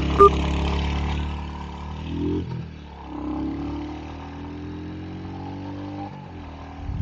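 Royal Enfield Hunter 350 motorcycle accelerating hard through the gears, its steady engine drone rising in pitch between shifts with brief dips as each gear changes, close and continuous.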